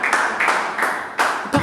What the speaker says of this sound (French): est-ce qu'on peut applaudir un peu pour notre frère